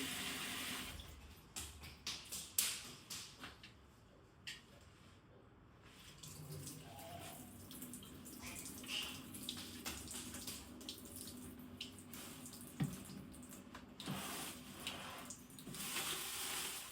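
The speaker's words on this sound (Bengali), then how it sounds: "সিঙ্কে নিয়ে আসছি, জলের মধ্যে দিয়ে ভালো করে একটু কষতে কষতে ধুয়ে নিচ্ছি" Tap water running into a kitchen sink while rice is rinsed and rubbed by hand, a steady faint splashing stream with irregular sloshes and clinks as the grains are worked.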